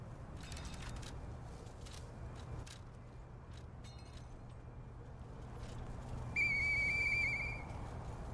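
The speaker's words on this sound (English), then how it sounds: "Hey, that sound. Is that you, Murphy? I know that whistle." A character's whistle in the video game Lies of P: a clear, steady tonal note lasting about a second near the end, rising out of quiet, hissy game ambience with faint mechanical clicks earlier.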